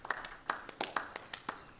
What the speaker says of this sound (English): So I thought we could begin with a round of applause befitting such a great man.